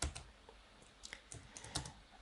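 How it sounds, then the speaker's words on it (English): Computer keyboard keys are tapped in a quick, uneven string of close, crisp clicks, with a shortcut key combination pressed among them in a quiet room. "I'm gonna press Ctrl V to paste the settings"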